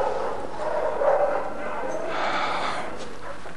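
Old dogs give muffled barks and soft whimpers at moderate distance, blended into a continuous background murmur.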